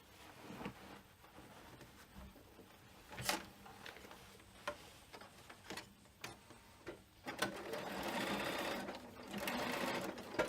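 A sewing machine stitches the lining of a frame bag in short bursts, its rapid mechanical whirr stopping and starting, then running longer and louder near the end.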